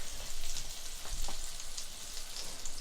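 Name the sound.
ginger sizzling in butter in a hot pan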